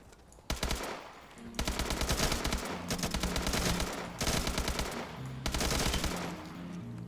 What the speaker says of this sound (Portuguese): Barulhinho de headshot.